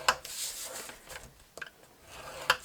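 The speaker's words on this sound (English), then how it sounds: "for the inner part, you're scoring at 1 inch on all sides" A tool scores lines into card for a box made from scraps, producing short, dry rubbing and scraping strokes with a couple of sharper ticks, close and fairly quiet.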